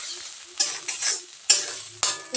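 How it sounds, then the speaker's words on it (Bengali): Ground spice paste and potatoes fry in a pan, with four or five distinct scraping stirs punctuating a soft underlying sizzle, all close up and without talk. "তারপর মশলাটা দিয়ে খুব ভালোভাবে ভেজে নিচ্ছি"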